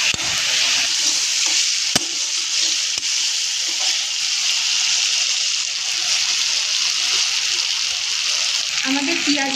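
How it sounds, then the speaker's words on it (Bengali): Chopped onions fry in a pan, giving a steady, even sizzle that stays loud and close throughout, broken only by a couple of sharp utensil knocks, with no voices. "পেঁয়াজটাকে ভাজা ভাজা করে নেব।"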